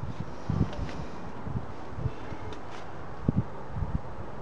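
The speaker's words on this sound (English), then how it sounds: "It is a little bit windy at the moment" Outdoor wind gusts buffet the microphone in low, irregular rumbling bursts over a steady faint hiss, with a few brief rustles.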